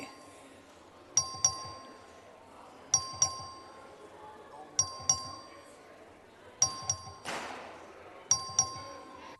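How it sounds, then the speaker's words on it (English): Voting bell rung by the clerk in a Texas House legislative session, a series of bright metallic dings in pairs and clusters repeating every couple of seconds over a murmuring chamber with faint voices. "Mr. Anchia, the clerk, ring the bell."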